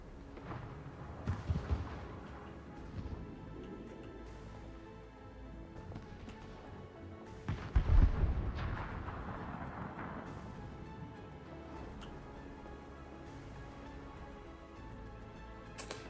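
Naval artillery fires blind in a World of Warships match, giving a few distant booming shell blasts and impacts over a quiet game ambience, with the loudest thump midway through.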